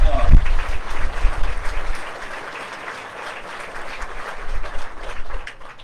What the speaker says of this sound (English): Give them all applause.